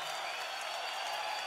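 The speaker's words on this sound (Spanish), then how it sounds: "Fuerte los aplausos, señores." Steady, dense applause from a concert audience after a performance by an Andean music group, filling the whole moment without a break.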